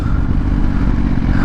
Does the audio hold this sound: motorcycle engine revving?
yes